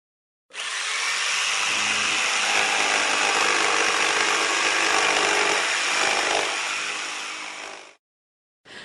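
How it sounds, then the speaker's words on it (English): A circular saw runs continuously for about seven seconds with a loud, steady high whine, then stops abruptly, followed by a brief faint sound at the end. "You have a bandsaw, you have a circular saw, and this one makes this sound."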